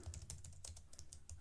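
Computer keyboard keys are pressed in quick succession, a faint, rapid patter of soft clicks close by with no one talking.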